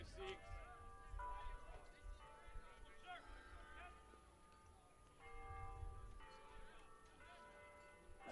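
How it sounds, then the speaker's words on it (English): Church bells chime on a college campus during a baseball tournament game, faint and distant under crowd murmur and announcer commentary. "3 o'clock as the bells chime on campus."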